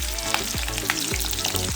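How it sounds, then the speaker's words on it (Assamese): Onions sizzle and crackle steadily in hot oil in a pan, a dense, continuous frying hiss with small pops, close and fairly quiet. "এতিয়া মই দিম ইয়াতে পিঁয়াজখিনি আৰু পিঁয়াজখিনি মই অকণমান সময় ভাজি থাকিম"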